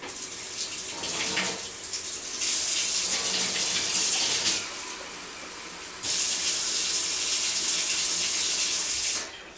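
A kitchen tap runs into a sink in bursts, loud hissing water flow that stops and restarts several times close by, with no talk over it.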